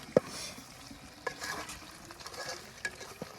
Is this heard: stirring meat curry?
yes